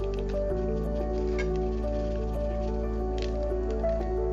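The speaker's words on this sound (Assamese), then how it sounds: "সেইখিনি এনেদৰে ভালদৰে মিক্স কৰি ল'ব" Meat is worked by hand with spices such as coriander powder, giving soft, wet squishing and squelching sounds close up over a steady low background hum, with no talking.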